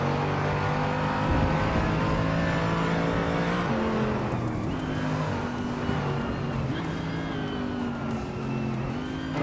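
Race cars roar past in a steady, loud stream of revving engines, with rising and falling whine and some tire squeal, under a running race commentary voice.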